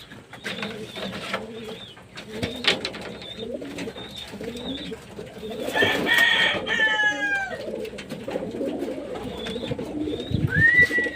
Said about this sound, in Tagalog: magpapaligo tayo ng kalapate